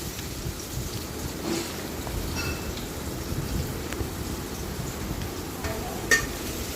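Onion and green chili being stirred into a green amaranth and okra stir-fry, a steady broadband scraping and sizzling texture running continuously and moderately loud, with one sharper clink near the end.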